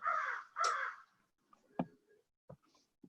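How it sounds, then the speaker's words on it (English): Five crows caw outdoors, two loud harsh calls up front followed by fainter, shorter cries at irregular intervals, heard over a quiet meeting line. "And 5 crows."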